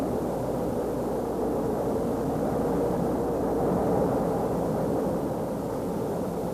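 The Gemini 4 launch vehicle roars steadily after liftoff, a dense, unbroken low rumble with a broad noisy hiss, loud and sustained throughout with no voices.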